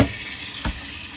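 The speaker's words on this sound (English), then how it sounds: "Water on the pasta" Water poured over cooked, freshly strained pasta in a sink, a steady close rushing wash with one brief splash partway through, no talking.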